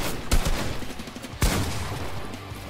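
Gunfire in a shooting video game, with two sharp close shots about a second apart over a busy, rumbling game background.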